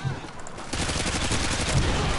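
Rapid bursts of automatic gunfire crackle close and loud in a Call of Duty: Modern Warfare 2 multiplayer match, with sustained rattling shots through most of the moment.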